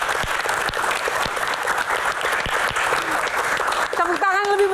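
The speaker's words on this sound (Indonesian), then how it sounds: "Tepuk tangan lebih meriah untuk Kang Mama." An audience at an Indonesian talk-show Q&A gives steady, even applause for several seconds. Near the end a voice cuts in over the clapping.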